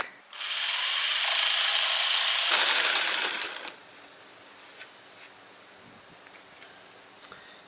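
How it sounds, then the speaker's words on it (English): A power saw cuts wood for a temporary workbench in a loud, steady whining burst of about three seconds, then winds down, followed by faint scattered knocks and handling noises. "So I'll take it outside to the saw and we'll cut some bits in it."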